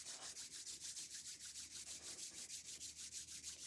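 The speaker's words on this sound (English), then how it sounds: "let's rub our hands together." Hands rubbing briskly together, a close, soft swishing friction that repeats in a steady rhythm of about four strokes per second, with no voices.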